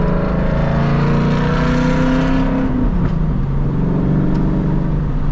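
Ford Mustang S197 engine drones loudly while driving, a steady low growl that rises in pitch under acceleration, then drops with a gear change and settles into an even cruise.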